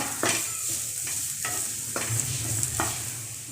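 Grated coconut and cashews roasting in ghee in a pan for sweet flattened-rice laddus, with a close, steady sizzle and several distinct scraping strokes of stirring, spaced about half a second to a second apart.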